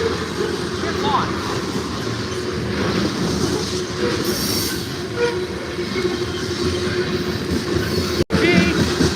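Norfolk Southern freight train rolling past at East Vandergrift, Pennsylvania, a steady loud rumble with wheel clatter and brief high squeals, with a person speaking over it.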